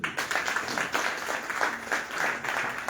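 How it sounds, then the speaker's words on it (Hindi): A crowd claps together at a network marketing training session, a short burst of dense applause with a loosely rhythmic pulse, steady and fairly loud throughout. "एक बार ताली होनी चाहिए।"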